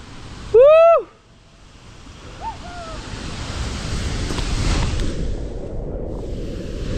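Steady, full roar of Dumling Falls fills the whole stretch as a broad wash of falling water, opened by a brief, loud whooping call near the start.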